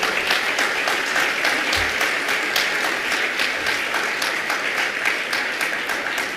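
Sustained applause from a large seated audience at a Jain religious discourse session, dense overlapping clapping that stays steady and loud throughout with no pauses.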